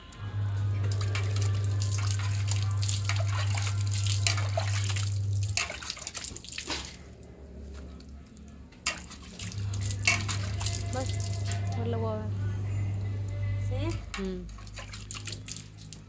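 Tap water runs steadily while someone washes their face, a continuous splashing hiss broken by a pause mid-way, with wet hand splashes and faint voices nearby.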